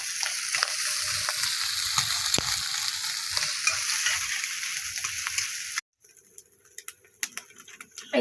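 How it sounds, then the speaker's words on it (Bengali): Egg with chopped onion, torn green chili, salt and turmeric frying in a karai; a dense, close sizzle with stirring scrapes runs for most of the stretch, then cuts abruptly to quieter kitchen noise. "লঙ্কা ছিঁড়ে দিচ্ছি পেঁয়াজ কুচি দিছি লবণ দিচ্ছি হলুদ দিচ্ছি"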